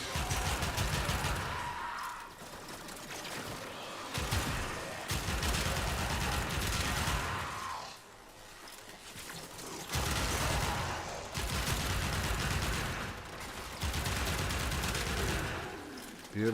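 Sustained volleys of automatic gunfire in Warframe survival come in long rhythmic bursts separated by short lulls, loud and close, with occasional faint talk underneath.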